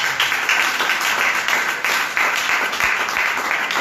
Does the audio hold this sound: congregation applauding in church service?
yes